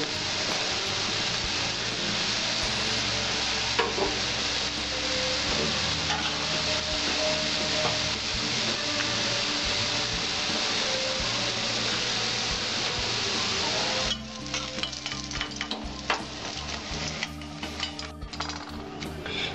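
Lentil fritters (dal bora) fry steadily in hot oil with a continuous close sizzle and occasional stirring scrapes, the texture thinning and turning more crackly toward the end.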